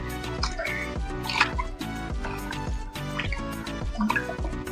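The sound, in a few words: washing khichdi with water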